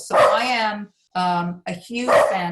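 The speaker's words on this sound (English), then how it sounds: "Sorry for the barking dog." A dog barks indoors at home, a few loud yaps in close succession overlapping a person speaking nearby.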